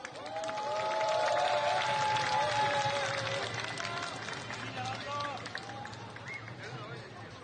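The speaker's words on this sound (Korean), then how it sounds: "힘찬 박수로 화순 뮤지컬 팀을 맞이하시겠습니다." A crowd of farmers at an outdoor rally applauds to welcome the Hwasun musical troupe, a steady swell of clapping under a voice over the loudspeaker.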